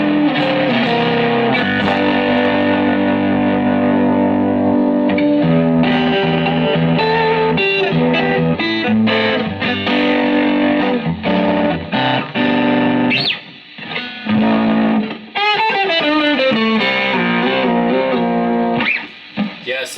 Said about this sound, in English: Higher gain, and then you go all the way up to distortion levels and you turn it up